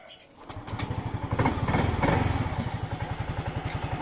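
A Yamaha Mio Gear 125 scooter fitted with a new air filter starts up and idles nearby, settling into a steady, even putter that pulses rhythmically after the start.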